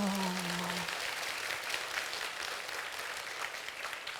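Steady applause from the audience at a humanities talk concert, a dense even patter of many hands lasting several seconds, filling the hall at moderate level after a brief voice at the start.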